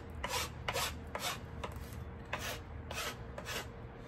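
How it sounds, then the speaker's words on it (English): A hand file rasping the wood of a self-bow, a series of short, regular scraping strokes up close, each stroke followed by a brief pause, with no talk. "And if you use a file, you don't want to go up against it."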